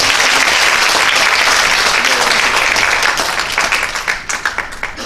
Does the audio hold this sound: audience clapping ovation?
yes